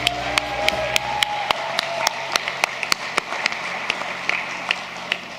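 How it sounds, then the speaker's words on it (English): Audience applause at the Tasmania Australian of the Year awards ceremony: a steady wash of many hands clapping across the room, with sharp individual claps standing out near the front, continuing throughout with no talk. "Let's give them another round of applause,"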